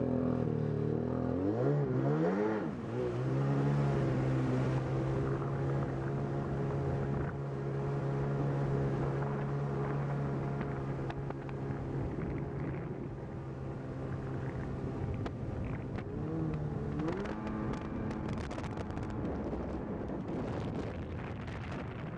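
A Sea-Doo XP personal watercraft engine is revved with the throttle feathered, a loud buzzing two-stroke note that rises and dips repeatedly. It stays close to the microphone over wind noise and no one speaks.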